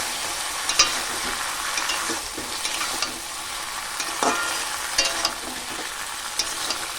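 Tomato paste and red chili powder fry in a pan for an okra curry, giving a steady close sizzle with occasional stirring knocks.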